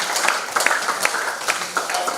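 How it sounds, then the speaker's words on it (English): Audience at an artificial intelligence conference breaking into applause, a dense patter of many hands clapping at close range for about two seconds. "Please can you clap for yourselves."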